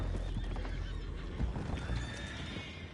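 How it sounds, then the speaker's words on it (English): Horses neigh and whinny amid hoof clatter in the Red Dead Redemption 2 video game, a loud, busy herd close by with overlapping calls over a rumbling background. "Go find out about those horses down below."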